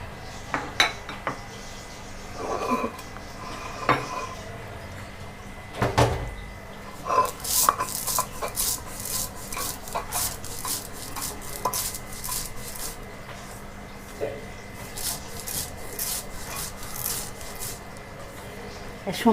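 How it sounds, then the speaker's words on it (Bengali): Sesame seeds are ground by hand on a stone shil-nora slab. Scattered knocks come first, then a run of quick, repeated gritty strokes of stone on stone, close up and moderately loud. "এখন আমি শিলনোড়ায় তিলটা বেটে নেব।"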